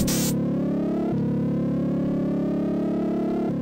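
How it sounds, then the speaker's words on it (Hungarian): In the Lotus III racing game, a car scrapes along a tunnel wall. A harsh, buzzy synthetic engine drone holds steady and slowly climbs in pitch, opening with a brief noisy burst and shifting with small steps throughout. "Hát szerintem nem így hangzik, hogyha egy alagút falát végigkaristolja egy kocsi."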